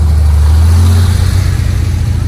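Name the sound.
American SRT car engine revving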